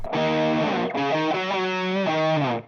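A heavily distorted electric guitar through a BOSS DS-2 Turbo Distortion pedal plays a sustained chord, then changes chords twice, thick and saturated throughout.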